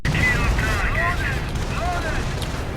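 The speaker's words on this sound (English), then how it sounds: "Explosions everywhere." Booming explosions and gunfire crackle through a tank battle in an online war video game, with dense overlapping blasts and rumble while a commentator talks excitedly over them.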